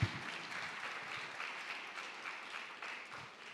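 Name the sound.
audience applause at TEDx event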